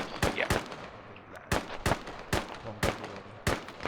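Gunfire from the tactical shooter Insurgency, set in a Fallujah firefight: a string of loud, sharp single reports with short uneven gaps, clearly distinct against a quiet background.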